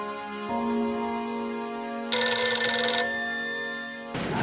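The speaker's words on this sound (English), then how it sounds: "I got a phone call." Telephone ringing in sustained electronic tones that shift pitch, with a brighter, louder burst in the middle and a short noisy burst at the end, no voices over it.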